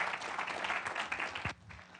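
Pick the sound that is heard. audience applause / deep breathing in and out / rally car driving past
audience applause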